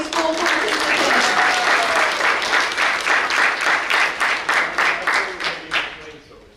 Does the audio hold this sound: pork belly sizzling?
no